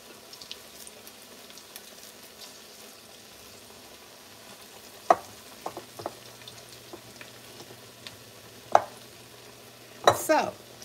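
Salmon patties frying in a pan, a low sizzle under scattered scrapes and clatters from handling, with a sharp metallic clank toward the end.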